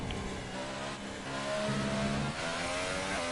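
Formula 1 car engine held at maximum revs on the grid in the F1 2018 racing video game, a steady, loud, continuous high-pitched whine with shifting tonal layers and no speech.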